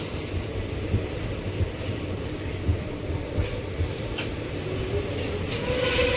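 Train 16362 from Velankanni to Ernakulam pulls out of Karaikudi Junction with a steady low rumble of wheels and carriages, heard from on board, and a faint squeal rising near the end.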